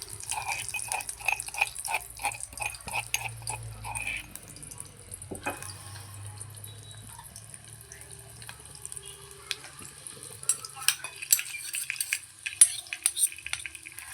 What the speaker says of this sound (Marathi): तेलामध्ये आपल्याला व्यवस्थित भाजून घ्यायचे आहे